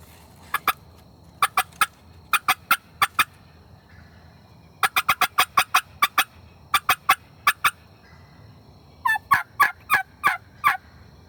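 A wild Osceola turkey gobbling in Florida, loud, sharp rattling gobbles in quick bursts of several calls, repeated in groups across the clip with short pauses between them.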